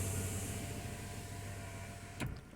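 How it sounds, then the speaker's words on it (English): The power window of a low-mileage 2020 Ford Transit MWB van hums steadily as it winds down inside the cab, ending with a brief thump as it stops. "Let's put the window down for you"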